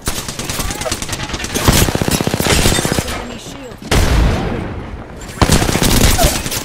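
Gunfire in Apex Legends, rapid automatic bursts crackling loud and close, broken by short pauses and a heavy boom, with players talking over the fighting.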